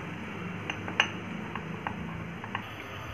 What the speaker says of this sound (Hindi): इसे भी एकदम मिक्स कर लेते हैं अच्छी तरह।